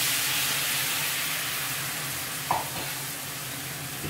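Thick coconut milk just added to a sautéed fish masala paste sizzles and bubbles steadily in the pan, a continuous hiss with a brief scrape of stirring partway through.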